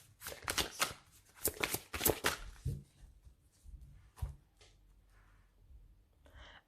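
A tarot deck being cut and shuffled, a quick run of crisp riffling flutters close up, then softer handling of the cards fading out.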